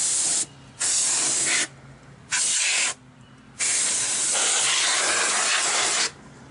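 Compressed air sprayed to clean dust out of a computer: loud hissing bursts in an irregular on-off pattern, about four long blasts separated by short pauses, close to the microphone.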